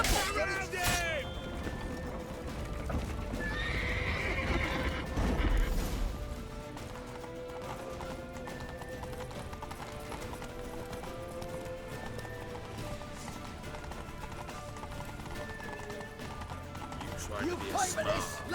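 Galloping horse hooves in The Witcher 3: Wild Hunt drum in quick clip-clop rhythm during a tense escape toward a temple, with game dialogue, music and occasional crashes layered around them.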